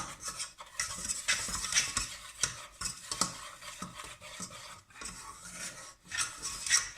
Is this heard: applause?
no